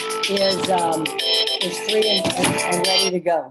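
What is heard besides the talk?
mobile phone ringtone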